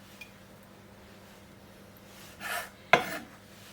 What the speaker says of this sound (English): I'm just going to run a knife and halve them